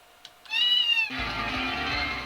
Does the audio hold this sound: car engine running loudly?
no